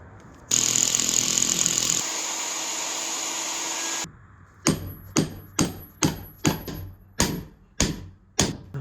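Metal hammer strikes driving a wedge into a tool handle at a DIY forge, about nine sharp, evenly spaced blows that are close and loud, following a loud power-tool whine.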